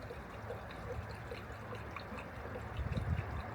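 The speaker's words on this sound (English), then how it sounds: "I should hopefully just be able to pour the screen wash in there and make sure there's no spillage" Screen wash being poured from a bottle into a car's washer reservoir, a soft continuous trickle and gurgle of liquid, faint and close, with no voices.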